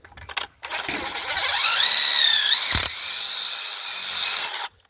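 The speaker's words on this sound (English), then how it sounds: "drill your hole." A power drill whines steadily for several seconds, pitch rising then settling, as a pocket hole jig drill bit bores through wood, then cuts off abruptly.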